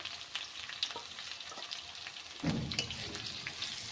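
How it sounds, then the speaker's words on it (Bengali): Potatoes frying in hot oil with chopped ginger tipped in, a steady close sizzle that swells into louder crackling as the ginger hits the pan, with stirring scrapes. "আলুগুলোকে লাল লাল করে ভেজে নিয়েছি এখন আমি দিয়ে দেব আদা কুচানো"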